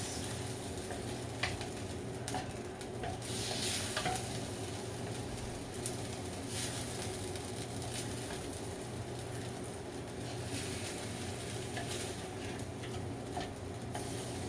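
Mapo tofu sauce toasts in a pan, giving a steady close sizzle with scattered ticks and scrapes as it is stirred, continuous throughout with no speech.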